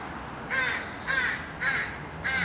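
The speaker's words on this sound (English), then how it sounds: "These are the carrion crows" Four harsh caws from carrion crows, evenly spaced about half a second apart, fairly close, over a low outdoor background.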